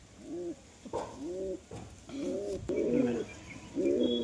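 A pigeon with an eye ailment coos close up, a series of soft throaty rolling calls repeating every second or so in a quiet room.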